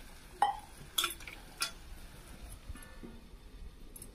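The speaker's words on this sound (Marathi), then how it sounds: "तर याच्यावर मी आता थोडंसं झाकण ठेवून देते." A lid set down onto a cooking pan of simmering vegetable curry gives a few sharp, close metallic clinks spaced apart, with quiet kitchen background and no talking.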